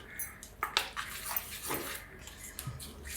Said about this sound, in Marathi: झाकण काढते.